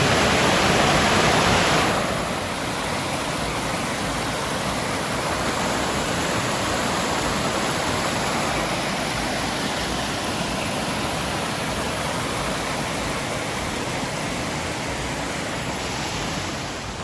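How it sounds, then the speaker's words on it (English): Steady rushing water cascading close by at Maramec Springs, Missouri, a dense broadband roar that stays constant throughout, slightly louder at the very start. "here we're gonna get right up on this waterfall here"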